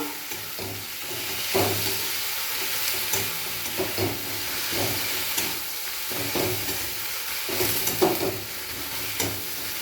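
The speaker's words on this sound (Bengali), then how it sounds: "মশলার পেস্ট নাড়াচাড়া করে নেব।" Spice paste stirred into onions in a pan for ghugni, a spoon scraping and turning in uneven strokes over a steady close sizzle of frying, with no talk.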